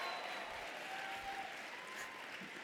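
Audience applause at a university college of education spring commencement ceremony, a steady wash of many hands clapping with faint crowd noise throughout, sustained and even without a clear break.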